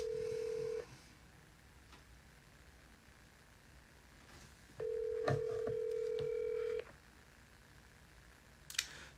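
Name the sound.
telephone call being dialed, unanswered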